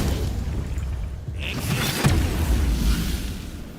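A fire elemental summoned in Baldur's Gate 3 arrives with a deep rumbling boom and a fiery whoosh that swells and lingers, loud and alone without talk.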